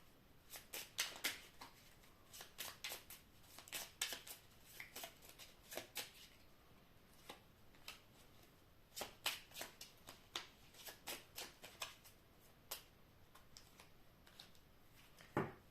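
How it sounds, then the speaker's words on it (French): Tarot cards being shuffled by hand, a quick run of crisp riffling and slapping bursts coming in short clusters with brief pauses between, close and fairly quiet, with no talking. "En fait, j'en ai d'autres, on va mélanger."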